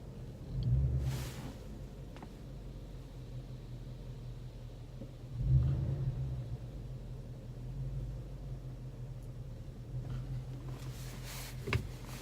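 Manual transmission car engine idling with low steady rumble, a few soft swells as revs dip and recover, fairly faint and heard from inside the car.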